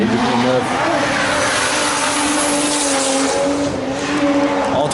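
A huge V8 drift car on new tyres at a Driftmasters event roars loudly and continuously with squealing, skidding tyres, heard close up with people talking over it.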